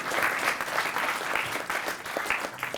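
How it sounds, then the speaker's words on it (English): A room full of people applauding at a boxing title belt qualifier press conference, dense steady clapping at moderate distance lasting the whole stretch. "Give him another round of applause,"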